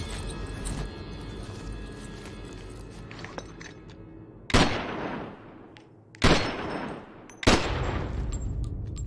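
Sniper rifle fire in the game Modern Warfare Remastered, three sharp, loud gunshots about one to two seconds apart, each with a short decaying tail, over a low background hum.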